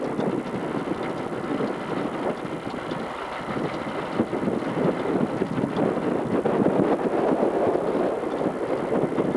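Boat engines run steadily while moored off Norman Island near the caves in the British Virgin Islands. A continuous, loud, rumbling drone has wind and water noise mixed in and no voices.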